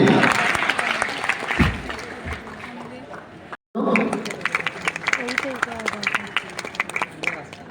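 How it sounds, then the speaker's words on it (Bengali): Audience clapping at a convocation ceremony as the physiology department head is called to the stage, a steady spatter of hands that breaks off briefly midway, with speech and crowd noise mixed in. "হাততালি।"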